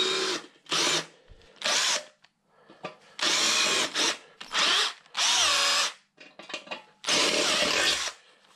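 A power drill with a slightly bent bit bores holes in a part for a Royal Enfield Meteor 350 / Classic 350 bobber project. It runs in about eight loud, close bursts of whirring, with short gaps of tool handling between them.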